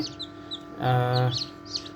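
Newly hatched chicks of local country chickens peep in thin, high, scattered chirps inside an automatic incubator, while a low humming drone swells briefly in the middle.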